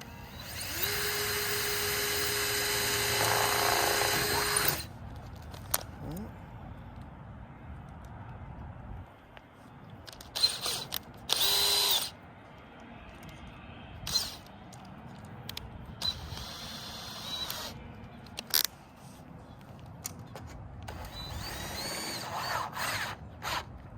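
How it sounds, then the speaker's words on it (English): A power drill whirs steadily for several seconds while drilling a hole in a roof, then short bursts of drilling and clicks follow with pauses between them, close by. "we'll drill our own hole"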